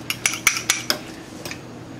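Cutlery clinking against a bowl while salad is tossed, five or six sharp, evenly spaced metallic taps, close and clear, then a couple of softer knocks before it goes quiet.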